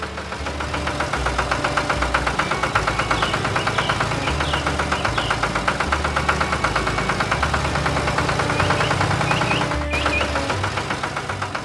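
A tractor engine runs steadily and loudly, a rhythmic knocking mechanical chug with constant vibration throughout, close and unbroken.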